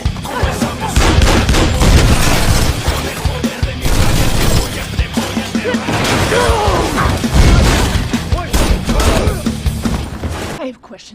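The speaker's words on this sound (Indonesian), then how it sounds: "Baku tembak pun tak terelakkan." A gunfight scene from the 2018 film Peppermint: dense, continuous bursts of gunfire, crashes and impacts mixed with soundtrack music, with a voice narrating over the action throughout.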